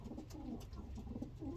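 Racing pigeons in an open loft, soft low cooing repeated throughout over faint room noise, close and continuous with no voices.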